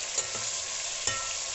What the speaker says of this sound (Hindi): लहसुन अदरक के पेस्ट को मैं हल्का सा लाइट सा ब्राउन करूँगी